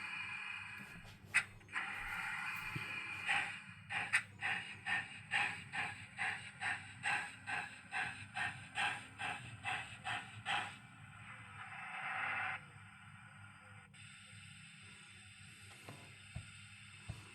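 A DCC sound-fitted Rapido Trains BR 15xx pannier tank model locomotive, running backwards, puffs in a steady chuffing rhythm over a hiss, speeding slightly, then stops, leaving faint mechanical clicks and hiss.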